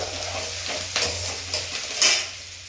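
Semolina roasting in a pan for upma with peas, a soft continuous sizzle under repeated scraping stirs of a spoon against the metal, with a few sharper clinks.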